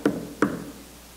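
Two firm knocks on a door, about a third of a second apart, moderately close and fairly quiet, with no voices over them.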